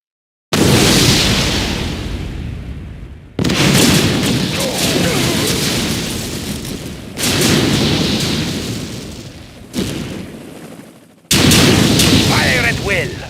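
Heavy weapons fire from units in the Mental Omega real-time strategy game, a dense run of booming blasts and bursts in long loud stretches broken by short gaps, with voices in between.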